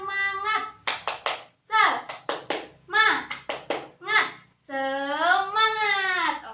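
A class of children does a rhythmic spirit clap, short bursts of sharp hand claps alternating with their chanted, sing-song voices, close and lively.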